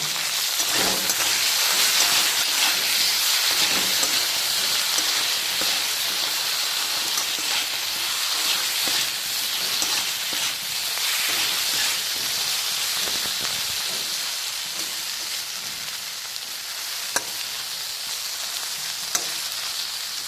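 Potatoes sizzle steadily in hot oil in a pan, seasoned with salt, chilli powder and turmeric powder for Bengali masala aloo bhaja; a dense, close hiss runs throughout with a couple of faint clicks near the end and no talking.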